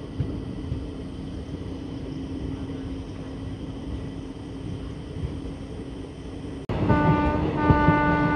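A passenger train runs steadily near Mailani Junction in India, a continuous loud rumble of wheels and carriages heard from on board, shifting to a brighter, busier clatter with ringing tones near the end.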